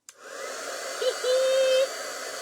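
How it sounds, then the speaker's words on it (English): An embossing heat tool blows a steady, hair-dryer-like airstream, switching on with a click and running close and fairly loud for about two seconds, with a brief whine partway through. "This is not actually a hair dryer. It's an embossing tool."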